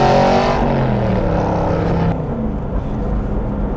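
A loud, steady V8 from an Aston Martin Vantage drones while the car is driven, a constant deep engine roar heard from inside the cabin that eases slightly partway through, with no talking.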